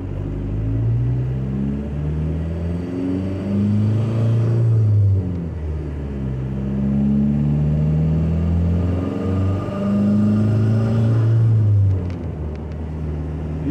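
Toyota with a swapped 1.9L TDI diesel and GTC2262 mini semi turbo in normal driving, a deep steady engine drone with rising and falling pitch as boost builds and eases, heard from inside the cabin without speech.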